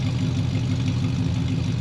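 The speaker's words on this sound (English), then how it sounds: "the Chevelle's got a great sound, all the dual exhaust" A 1970 Chevrolet Chevelle with a 454 big-block V8 and dual exhaust idles, heard up close as a deep, steady, throbbing burble with an even loping pulse and no talk.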